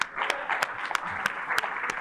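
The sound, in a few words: audience applause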